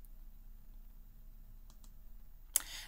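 Mouse clicks on a computer in the Genially editor, two faint quick clicks partway through and a sharper louder click near the end over a quiet hum.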